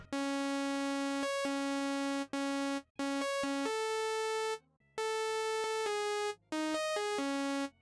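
A bright, buzzy synthesizer plays a simple stepped pattern of sustained notes, each tone harmonically rich and harsh, with short gaps between phrases.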